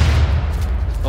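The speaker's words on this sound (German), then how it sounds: "Oh, doch Granate." Grenade explosion in the WWII shooter Wolfenstein: The Old Blood: a loud, sustained low boom filling the whole moment amid game gunfire, with a player's voice talking over it.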